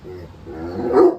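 A pet dog gives a short whimpering bark-like vocalization up close, rising at the end, with a person speaking briefly over it.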